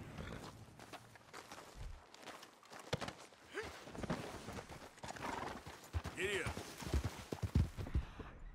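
A horse in the video game Red Dead Redemption 2 clip-clopping along with hooves thudding in an uneven rhythm, occasional snorts and a whinny, and someone speaking briefly over the hoofbeats.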